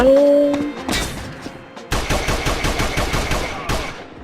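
Gunfire in the shooter game Code of Honor: a few separate shots, then a steady run of roughly a dozen evenly spaced loud rounds, ending with one more close shot.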